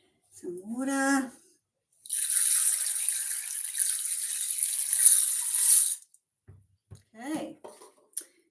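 Water is poured from a tap into a bowl of red lentils set to soak for pumpkin soup, a steady bright splashing stream lasting about four seconds, with a person talking before and after.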